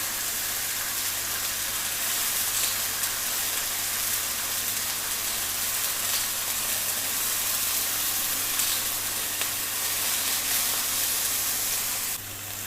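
Tomato garlic chutney cooks in a pan with a steady, even sizzle and hiss that holds at one level for the whole stretch, close and with no talking.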